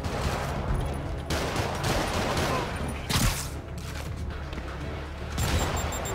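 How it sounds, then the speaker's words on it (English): Rockets fire in a Spider-Man video game amid dense, rattling bursts of explosive gunfire-like blasts and booms, loud and continuous with sharp surges, with faint voices underneath. "More rockets? A little excessive,"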